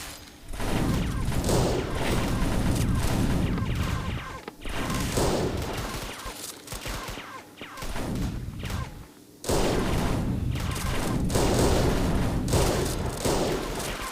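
Bombs dropped in the real-time strategy game Rusted Warfare burst in repeated dense, rumbling explosions over about fourteen seconds, with a few short quiet gaps between barrages and no talk.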